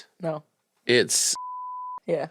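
A steady censor bleep tone of about half a second covers a spoken phone password, set between short bursts of casual talk before and after.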